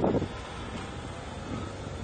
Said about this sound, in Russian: Снова ветер